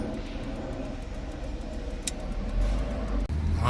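A 2004 Honda Accord cruises on a road, heard from inside as a low steady rumble of engine and tire noise with faint road hiss and a brief sharp click partway through.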